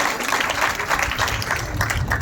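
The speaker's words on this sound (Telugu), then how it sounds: "గట్టిగా చప్పట్లు కొట్టి" A church congregation at a Good Friday Lent Mass claps together in a dense, steady burst of applause, close and fairly loud, with a voice faintly underneath.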